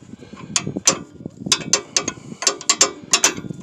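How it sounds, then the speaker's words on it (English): A ratchet wrench tightens the bolt on a vehicle's lower ball joint, producing a series of sharp metallic clicks in short irregular bursts, close and moderately loud. "before you tighten the bolt all the way down"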